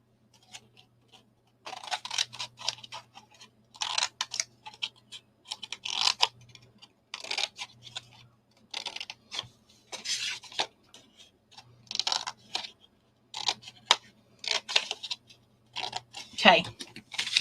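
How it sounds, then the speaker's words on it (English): Scissors snipping inside a paper minibook, soft close cuts and rustling paper in repeated short bursts, with quiet talk in places. "I'm going to have to snip inside as well."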